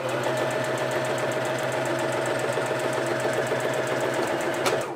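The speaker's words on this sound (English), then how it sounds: "I'm going to start with a straight stitch." A Necchi C35 Creator Series sewing machine runs a straight stitch at 2.5 length, a steady rapid mechanical chatter with a constant motor hum, close and continuous before winding down at the end.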